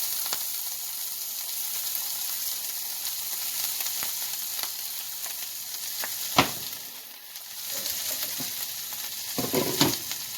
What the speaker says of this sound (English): Saute onions, ginger, and garlic on the low heat and add in the cooked rice